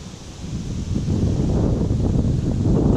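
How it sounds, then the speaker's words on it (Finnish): Steady wind gusting and roaring across the microphone while fishing for perch, a broad rushing noise that swells slightly and stays constant throughout, with no voices. "Tuulinen on sää."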